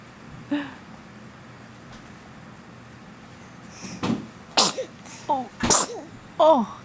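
A small child sneezes several times in quick succession late in a quiet indoor room, sharp close bursts after a long stretch of near silence.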